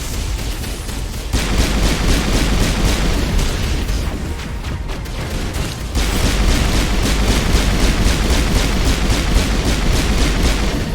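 Pistols fire in Mass Effect Legendary Edition as rapid, evenly spaced shots crack out loudly in two long runs separated by a brief lull, over a constant low game rumble.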